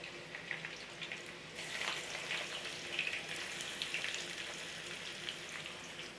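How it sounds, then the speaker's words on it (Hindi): Steady sizzling of garlic and onion frying in oil, a soft continuous crackle with no voices, fairly quiet and close. "इसी तेल पे पहले मैं लहसुन ऐड कर देंगे। एक प्याज भी ऐड कर देंगे।"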